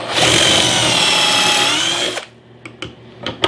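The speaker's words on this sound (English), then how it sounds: "you can see how easy it is to drill your holes" A power drill whirs loudly for about two seconds as it bores a hole in a wooden cabinet frame, then stops, followed by a few sharp clicks and knocks.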